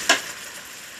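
A ladle stirs chicken tinola in a pot, giving a single short clink near the start, then a soft, steady simmering hiss.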